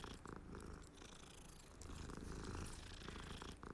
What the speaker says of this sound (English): Oh, it purrs.